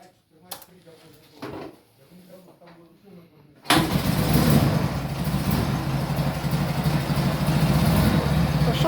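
An M72 motorcycle engine is cranked after a few clunks and brief talk, then roars into life and keeps running loud and steady close by.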